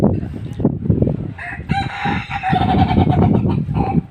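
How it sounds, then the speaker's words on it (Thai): A rooster crows loudly nearby, a long drawn-out call over a background of clucking and scattered farmyard noise. "ฟังไก่ฟังไก่กันก็ได้ยินครับ ดูครับมีไก่ด้วย"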